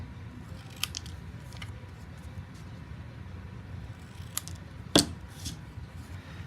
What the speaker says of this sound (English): I am just going to trim the sentiment by hand.